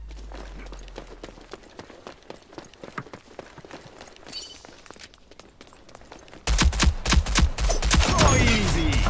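Gunfire in the video game Rogue Company, scattered sharp shots early, then a dense, loud burst of rapid automatic fire in the final seconds, with no talk.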